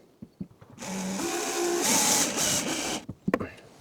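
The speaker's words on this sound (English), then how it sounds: "I will check it before I will drill it." A power drill bores into the wall of a storage cabin during electrical installation work, running steadily for about two seconds with its pitch shifting under load, with handling knocks and clicks before and after.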